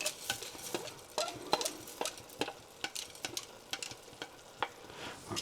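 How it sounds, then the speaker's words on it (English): A utensil stirs rinsed dried green lentils into tomatoes and garlic in a soup pot, making quiet, irregular scrapes and clicks over a low background sizzle. "We're just going to mix those in as well"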